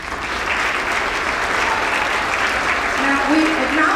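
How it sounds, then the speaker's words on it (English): Graduation ceremony audience applauding a doctor in a school auditorium, a dense, steady wash of many hands clapping for the full stretch without pause. "Let's give them all an applause."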